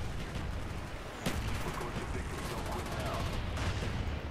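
Gunfire in Black Ops 1 on PC: a dense, continuous stretch of rapid shots and bursts at steady loudness, with a sharper crack standing out partway through amid the noisy battle.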